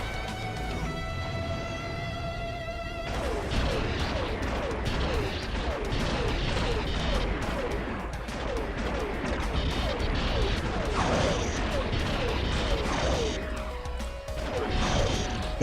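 TIE fighter blasters fire repeatedly during space combat in the Star Wars Galaxies Legends video game, a dense, continuous stream of zapping shots over a steady engine roar and crashing impacts.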